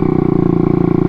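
Honda Ruckus scooter engine held at throttle, a steady loud buzzing drone with a fast regular pulsing beat close by, no voices.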